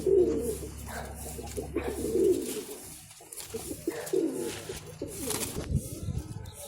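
Pigeons coo repeatedly among a kept flock of fancy pigeons, the low throaty calls rolling in overlapping waves close by, with no voices over them.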